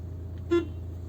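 A single short car horn toot from a 2006 Opel Corsa C 1.3 CDTI sounds once, close by, over a steady low engine hum.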